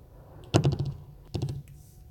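Keys on a keyboard tapped in two quick bursts of about five or six strokes each, close and crisp with a short pause between, while text is entered in the Cute Cut video editing app.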